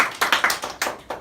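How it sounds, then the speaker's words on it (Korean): A few people in a church congregation clapping, about six sharp, uneven claps spread over a second, close and moderately loud, with no voices. "박수 한번 쳐줘요."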